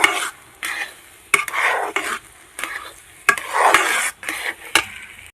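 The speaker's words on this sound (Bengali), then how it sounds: "তো এই যে এখানে সুজিগুলো এখন ভেজে নিচ্ছি।" Semolina roasting in a pan, loud close bursts of scraping and stirring that come in uneven strokes, with sharp clicks of the spoon against the metal.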